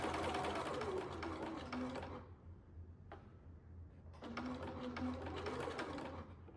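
A sewing machine back stitches a sun hat, running in a steady whirring burst, pausing briefly with a single click, then running again, close and fairly quiet.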